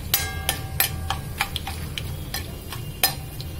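Dried red chilies fry in a pan for a brinjal pulusu pachadi, a steady low sizzle punctuated by sharp irregular crackles and pops, close and fairly quiet, with no voices.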